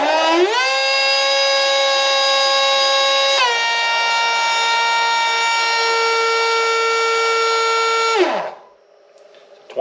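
A 12-turn Titan electric motor on a dyno spins up with a loud, rising whine that steps up in pitch twice, holds a steady high tone for several seconds, then cuts off and winds down.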